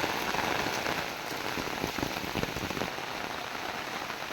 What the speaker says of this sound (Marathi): पाऊस जोरदार पडताय बघा